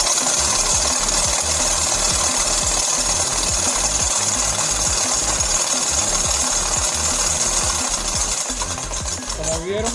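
A motorcycle engine runs steadily with a rapid mechanical chatter, loud and close for the whole stretch, as part of testing its electronic ignition system.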